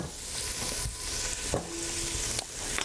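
Corn stirred in a hot pan, with steady close sizzling and frying broken by scraping strokes of the utensil against the pan, no talk.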